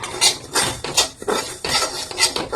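A spoon scrapes and stirs dry semolina roasting in a kadai over a gas flame, producing quick rhythmic clinking strokes repeating about twice a second, close and moderately loud.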